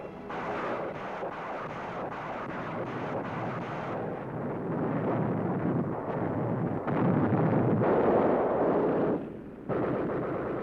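Rocket launcher barrage pounding a town in WWII footage: a dense, continuous roar of rapid blasts and rumbling explosions, loud and unbroken throughout, with no voices.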